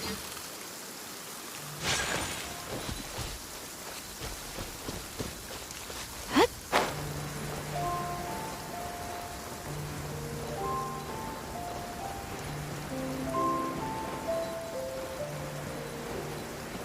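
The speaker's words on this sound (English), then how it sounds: "Let us find shelter from the rain." Steady rain falling in the open world of Genshin Impact, a soft continuous hiss with a sharp clatter partway through and gentle music notes playing underneath.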